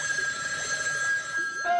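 An old telephone bell rings with a continuous bright metallic trill that holds steady for nearly two seconds, loud and close, with faint background noise beneath.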